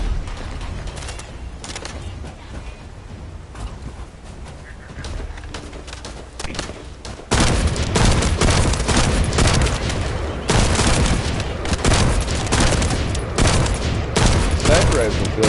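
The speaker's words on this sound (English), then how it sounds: "Sniper rifle feels kind of weak" Semi-automatic sniper rifle fire in the looter shooter The First Descendant, with quieter game ambience giving way to a loud stretch of repeated sharp shots and mechanical clatter.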